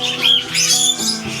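A disoriented bird in an Australian aviary at a zoo gives a few harsh, loud squawks close by, with no talking.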